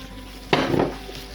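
Barbecue-sauced tempeh cooking in a pan, heard as a short burst of clattering and stirring with a soft sizzle lasting under half a second, then fading back to a quiet kitchen background.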